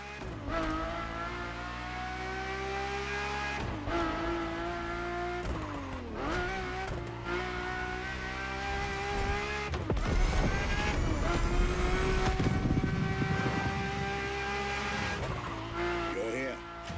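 Ferrari F40 and F50 engines in the racing game The Crew Motorfest roar in sustained, rising and falling revs with brief tire squeals, loud and continuous throughout.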